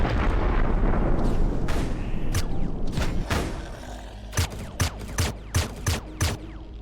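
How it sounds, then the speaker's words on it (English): Enemy weapon fire and explosions in Empyrion Galactic Survival: a roaring blast fades into a series of sharp, booming impacts, then a regular run of heavy thuds about every half second, loud and close. "Shooting at me, they're shooting at the walls, they're shooting at something"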